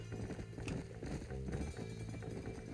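Hoofbeats drum in a quick galloping rhythm as a horse runs along a road in the video game Red Dead Redemption, close and steady over a low rumbling background.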